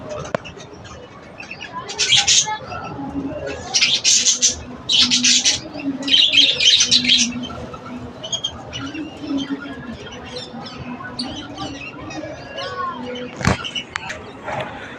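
Pet parrots squawk and screech in loud bursts while feeding, with chirps and calls scattered between, a low voice murmuring in the background, and one sharp knock near the end.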